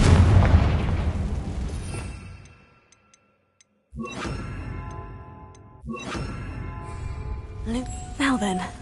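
Explosions from the Confringo spell in the video game Hogwarts Legacy: a loud blast fades into near silence, then two more sharp bursts with whooshing tails follow, and a voice speaks near the start.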